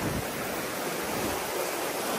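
Spring water from the mountain pours steadily into a swimming pool at Tagbungan Mountain Resort, a constant close rushing wash with no talk.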